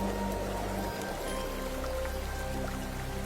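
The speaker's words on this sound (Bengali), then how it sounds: "কিছুক্ষণের মধ্যেই জোর বৃষ্টি শুরু হয়ে গেল, আর সাথে ঝোড়ো হাওয়া" Heavy cartoon rain with stormy wind makes a dense, steady patter and rush, with a soft musical tone running underneath and no talking.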